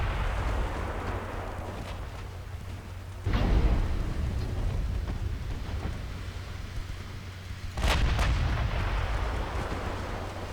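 Battleship turrets fire in the naval combat game Ultimate Admiral Dreadnoughts, with two heavy booming salvos several seconds apart over a constant low rumble of sea and engines and no talk.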